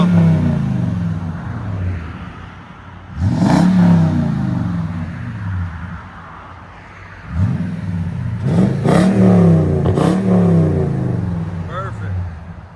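A 2016 Toyota Tundra with a 5.7L V8 and Magnaflow dual-in, single-out exhaust with dual tips idles with a deep burble, then revs in two loud, rising bursts, the second a quick series of blips.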